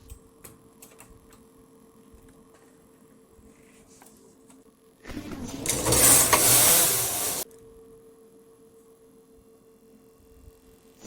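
An SK280 knitting machine carriage knits a single row of a vest, a loud rough swishing rattle lasting about two seconds, set between quiet stretches of faint ticking and hum.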